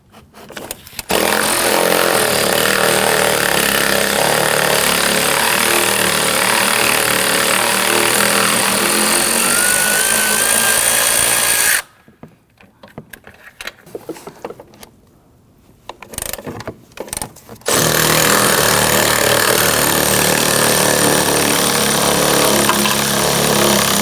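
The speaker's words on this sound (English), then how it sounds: "Using a 13mm socket, you can use a ratchet or wrench. I want to go ahead and loosen and remove these 3 bolts." A ratchet with a 13mm socket loosens the strut top bolts on a 2009-2017 Volvo XC60, making loud, sustained mechanical grinding in two long bursts separated by a quieter, choppy pause.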